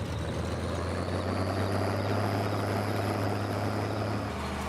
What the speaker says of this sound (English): This tractor is ridiculously noisy, but straight pipe exhaust, yep, that's what she'll do.